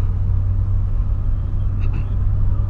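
A manual car pulls away in second gear with a steady, heavy low engine rumble and road drone close by. The tone stays even throughout, with no talking.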